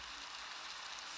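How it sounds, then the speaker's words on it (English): Heavy rain pours down in a dense, continuous hiss, steady and fairly loud throughout a brief stretch with no voices. "it's raining, and the rain picks up and it's getting heavy"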